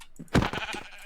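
Sheep bleating in Minecraft, a short wavering call rising out of quieter game sounds, loud and close, with a couple of softer bleats around it.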